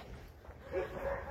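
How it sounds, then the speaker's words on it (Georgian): Dogs in a hall where many dogs gather, barking and yipping in a brief burst that swells midway, fairly faint against a background of people talking. "სასწაული ხდება აქ იმდენი ძაღლია და იმდენი იყო."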